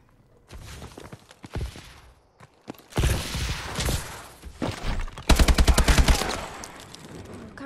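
Automatic gunfire in Call of Duty Advanced Warfare comes in rapid bursts that grow louder and denser toward the end, mixed with footsteps and thuds from nearby combat.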